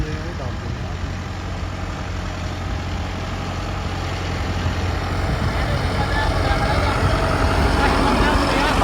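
An Arjun Novo 655 tractor runs fully loaded while pulling a laser land leveler, its steady, close, heavy engine drone filling the whole stretch and growing slightly louder toward the end.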